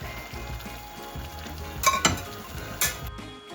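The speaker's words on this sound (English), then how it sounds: "the rice is cooking, nice and creamy, stirring around" Risotto rice with porcini being stirred in a pan, a soft steady scraping and gentle sizzle with a couple of brighter clinks of a utensil against the pan near the end, close and fairly quiet.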